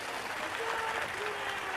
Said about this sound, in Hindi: एक बार जोरदार ताली बजाओ इन सनातन अवलंबियों को